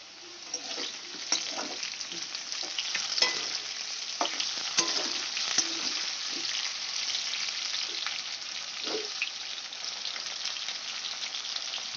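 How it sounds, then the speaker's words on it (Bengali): Potato pieces frying in hot oil to brown them, a steady, moderately quiet sizzle with scattered stirring clicks and scrapes throughout, heard close and alone. "আলুটা আমি লাল লাল করে ভেজে নেব।"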